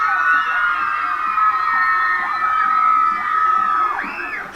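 A large crowd, many sounding young, screams and cheers loudly and continuously at a live show for Carl l'anti-tapis, with shrill rising whoops near the end.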